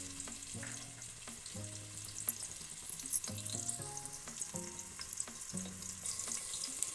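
Sliced onion goes into hot oil and fries with a continuous sizzle, while a spoon stirs with scrapes and clinks against the pan.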